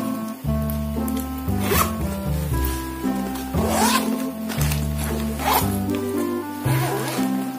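A zipper on a hiking first-aid bag is pulled open in several short, rasping strokes, close by, over steady background music.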